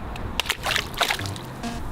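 A Rubik's cube drops into water with a couple of quick, close splashes and sloshing, then a brief trickle.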